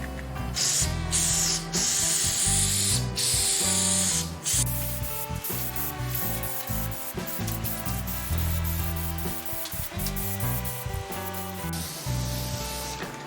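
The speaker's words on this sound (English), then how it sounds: "I'm gonna do a quick spray of this inside." Spray can of shellac being sprayed inside a salvaged coffee table, close repeated hissing bursts with short gaps between them, continuing throughout.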